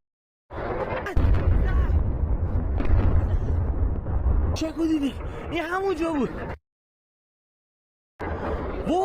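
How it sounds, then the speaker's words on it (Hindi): Missiles striking targets during a US attack on Iran send up long rumbling explosive roars, loud and sustained, followed by a burst of whistling, rising tones, then a gap of silence before the roaring resumes. "ये मिसाइल है जो आके गिर रही हैं"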